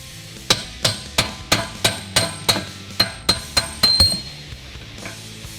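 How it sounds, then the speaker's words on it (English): A hammer taps a pinion gear out of a Mustang rear axle about a dozen times in a steady rhythm, each strike sharp and ringing with a bright metallic clink, close and fairly loud. "sometimes you get lucky and just tap it with a hammer, it will come out."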